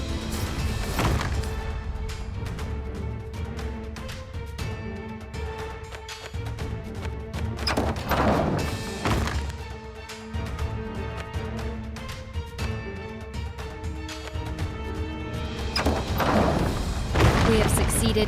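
Heavy thuds and crashing impacts as an enemy wall is destroyed in the strategy game Against War, several booming hits spread across a busy battle din with music and effects underneath.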